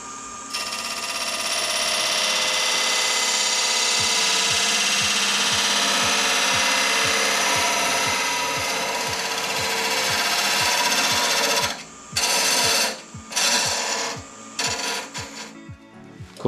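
A lathe turning a wooden cooking pan handle while a tool undercuts it, a continuous loud scraping rasp with a rapid rhythmic ticking, then breaking into short intermittent cuts toward the end; no talking.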